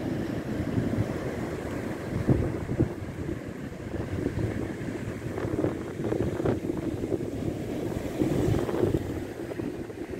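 Rough sea off the coast at Čanj whipped up by wind and rain, with waves around two metres high: a steady loud roar of wind and surging water, gusts buffeting the microphone and swells breaking throughout.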